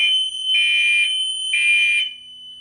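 A building fire alarm, set off from a pull station, sounds a loud, steady electronic tone with two stronger pulsing bursts. It is close and shrill, and no voice speaks over it.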